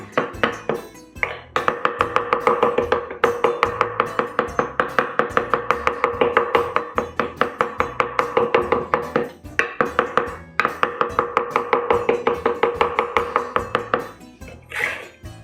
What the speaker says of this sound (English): I've got mint, it was fresh, so I'm using mint. We'll chop that up nicely.